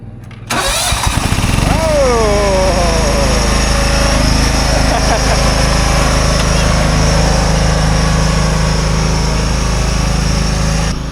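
A small engine starts and settles into a steady, loud running drone, with a brief voice at the start.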